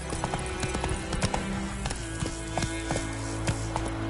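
In The Witcher 3, the horse Roach trots with a steady, quick clip-clop of hooves, close and continuous over a constant in-game background bed, no talking.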